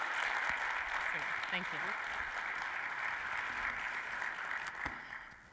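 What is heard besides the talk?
audience applause as speaker takes podium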